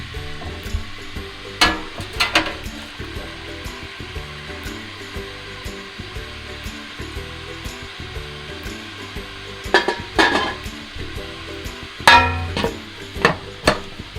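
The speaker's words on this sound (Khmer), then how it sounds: "ឥឡូវយើងទុកចំហុយនៅក្នុងឆ្នាំងហ្នឹងក្នុងរយៈពេល15នាទីសិន" Sea bass steaming Asian style in a covered pot gives a steady low hiss, with a few sharp clatters and knocks rising now and then above the continuous sound.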